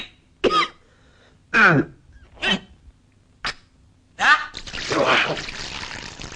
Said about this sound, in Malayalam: എന്നാ കൊടുക്കുന്ന ചുമയാടാ